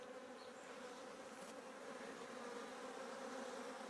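Bees buzz around a honeycomb frame full of nectar, a dense, steady hum from many insects that stays even and close throughout, with no talk.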